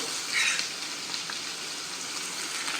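Onions fry in a pan for a raw mango and cashew curry, giving a steady bright sizzle that hisses a little louder near the start and then settles into an even crackle, with no voices.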